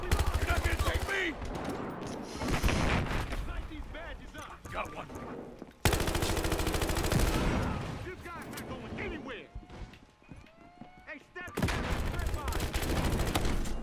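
Bursts of automatic gunfire and heavy shots in the Battlefield Hardline shooter game fill the scene loudly, broken by brief lulls and abrupt cuts, with a player's voice talking over the combat.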